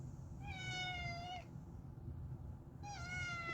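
A house cat lets out two drawn-out, clear meows separated by a pause, heard close against a faint low background hum.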